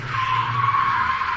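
A car in a gymkhana test locks up under the handbrake and skids, a loud sustained tire squeal with engine drone beneath, steady throughout.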